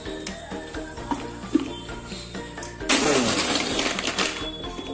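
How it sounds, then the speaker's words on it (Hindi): A kitchen blender whirs on a smoothie of oats and apple with ice balls and cinnamon powder added. A sudden loud, dense grinding roar starts partway through after quieter clatter, and it runs on strongly to the end. "अब हम इसमें थोड़ी सी आइस बॉल्स डालेंगे और 1/4 टीस्पून सिनेमन पाउडर डालेंगे। एक बार और ब्लेंड कर लेंगे।"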